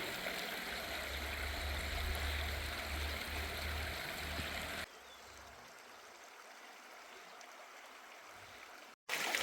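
Water flows steadily in a stream in Guldaar valley, a constant rushing wash that is fuller at first, then drops to a quieter, thinner flow.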